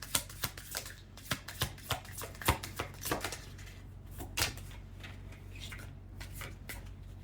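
Tarot cards shuffled and drawn by hand, a run of soft, irregular riffling snaps and flicks, close and quiet, with no one speaking.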